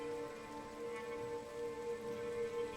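Dense, steady hiss of heavy rain falling continuously at a remote roadside inn at night, with even moderate loudness and no voices.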